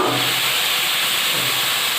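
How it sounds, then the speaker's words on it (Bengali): Leafy greens frying with salt in a hot wok (kadai), a steady close sizzle and hiss running evenly throughout with no voices. "কড়াইটা ভাজা ভাজা হয়ে গেলে আমি ওই মধ্যে লবণ দিয়ে হাজানো শাকটা দিয়ে"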